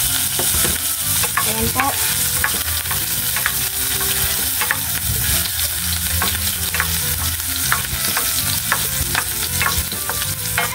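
Chopped onion fries in oil in a pan with a dense, steady sizzle and crackle, punctuated by repeated scraping stir strokes throughout; a voice speaks briefly.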